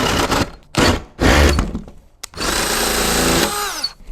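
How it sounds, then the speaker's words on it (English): A power drill with a Forstner bit bores a drain hole through a bass boat's floor, several loud bursts of whirring and grinding broken by pauses, then a long sustained cut that winds down at the end. "So we're gonna take the Forester bit, drill a hole for the drain"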